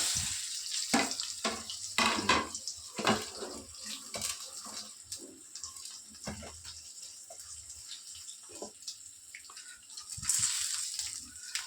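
Garlic, mustard seeds, cumin, chana dal, urad dal, curry leaves and dried chillies frying in a pan, a hissing, spattering sizzle with scattered crackles and stirring, fairly close and steady.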